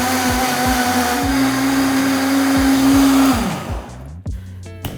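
A blender whirs loudly on high speed through a cashew ice cream base, a steady close motor whine that winds down and stops near the end.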